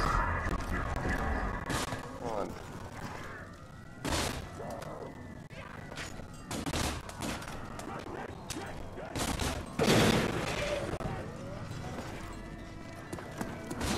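Gunfire and chaotic game effects from Call of Duty Kino der Toten zombies mode, with repeated shots and crashes in bursts while players talk over the action.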